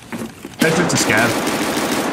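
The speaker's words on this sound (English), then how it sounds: "He shot a scav." Gunfire in Escape from Tarkov as a player shoots a scav on the Factory map: a short burst of shots starts abruptly partway through and carries on loud and dense to the end, after a quieter stretch of game noise.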